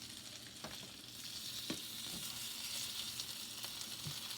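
Butter sizzles steadily in a pan under tortilla shells pressed together for an apple pie quesadilla, a constant close hiss with faint scattered crackles and no talking.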